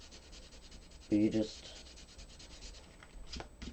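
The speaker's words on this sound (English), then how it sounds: "I use this little sanding eraser. I mean, you have to be gentle because it is a sander." A small sanding eraser rubs gently over an inked card in one brief scratchy burst, with someone speaking quietly around it.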